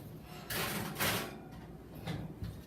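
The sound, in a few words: oven door opening and closing to put cookies in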